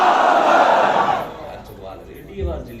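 Large crowd at a religious conference roaring a loud, massed chant in reply to a takbir call, a dense wall of voices that swells for about a second and then fades into scattered murmurs and a brief later shout.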